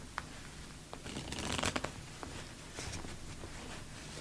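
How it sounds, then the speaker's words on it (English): Playing cards are shuffled in a false zero shuffle that leaves the order unchanged: soft riffling and squaring sounds, close and quiet, with a dense burst of riffle clicks in the middle and lighter taps before and after. "Here's what the move looks like up to speed from behind."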